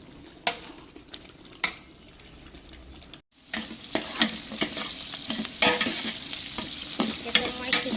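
Khichdi being put on to cook as Vishwakarma puja prasad, with sharp spoon-and-pot scrapes, a brief silent gap, then louder, steady sizzling frying under repeated stirring.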